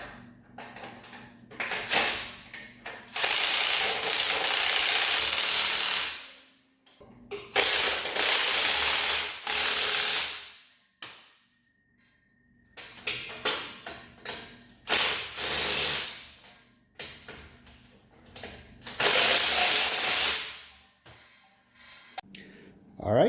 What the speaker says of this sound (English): And then we'll put the rest of the